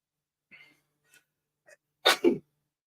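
A single sharp sneeze bursts out near the end after a few faint breathy intakes, close and loud against otherwise quiet surroundings.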